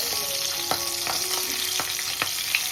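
Green chillies stuffed with a ground masala paste fry in a pan with a continuous close sizzle and a run of small, sharp crackles and pops.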